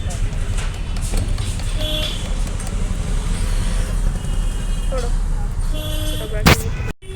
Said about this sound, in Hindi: ये अतरौली का रोडवेज बस अड्डा है।